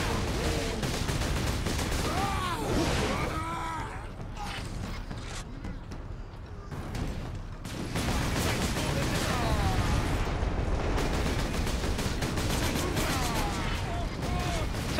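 Gunfire rattles through Warhammer 40,000: Space Marine, heavy bursts and mechanical clanks repeating across a dense, loud battle soundscape, with voices and game speech mixed in.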